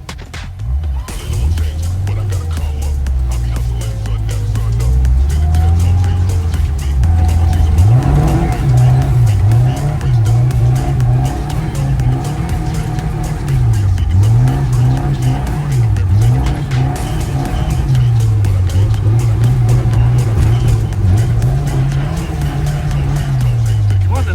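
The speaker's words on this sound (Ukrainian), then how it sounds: "Жигу зараз покатаємо." Engine of a VAZ Zhiguli car drifting on a snowy winter street, loud and close, rising and falling in repeated revving swells as the car slides through turns, with speech heard over the engine.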